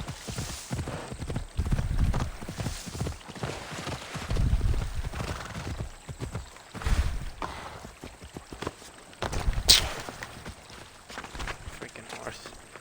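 Steady clip-clop of horse hooves in uneven bursts, moderately loud, with voices speaking at times and ambient game noise behind.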